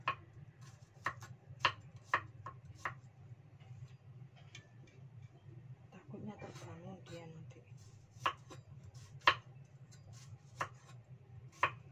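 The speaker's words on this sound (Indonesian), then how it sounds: "Bumbunya cuma berambang bawang cabe ya, diiris-iris tipis-tipis guys" Shallots, garlic and chili being thinly sliced with a knife on a board, about a dozen sharp, quiet taps spaced irregularly, with a soft murmur of talk partway through over a low background hum.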